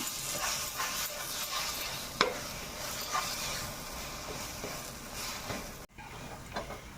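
Soft stirring and scraping of a banana and semolina mixture in a pan over a gentle sizzle, with a few sharp clicks and taps of a utensil against the pan.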